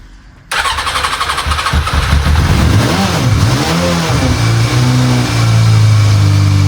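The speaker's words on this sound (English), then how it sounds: "Our bike is running!" A cheap old motorcycle engine, choke fully out, sputters, catches and starts, then revs up and down a few times before settling into a loud, steady running rumble.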